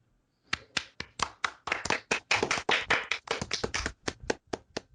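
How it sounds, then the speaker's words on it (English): A small group claps steadily for several seconds, the sharp hand claps distinct rather than a dense roar, with no voices over it. "we should give a big round of applause to everyone that submitted to us"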